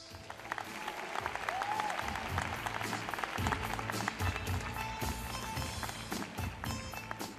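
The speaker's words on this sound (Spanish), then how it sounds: "Un aplauso para Rubén Vélez" Audience applause at the closing of the Mundial de Tango in Buenos Aires, a broad steady wash of clapping from a large crowd that lasts throughout, with a faint melodic tone drifting over it.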